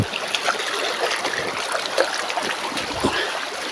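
A stream flows in the middle of a forest, with steady trickling and babbling water and small splashes close by, continuous and fairly loud, with no voices.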